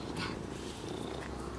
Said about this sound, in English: cat likes me and CK and Mummy and Aaron a lot